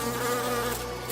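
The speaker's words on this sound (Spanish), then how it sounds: "cuando las cenizas tocaron el viento, comenzaron a emitir un zumbido" Insects buzz in a dense, steady drone, a close and loud whine of many winged bugs like mosquitoes, used as a sound effect within a myth narration, with no talk over it.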